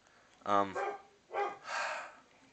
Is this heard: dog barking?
yes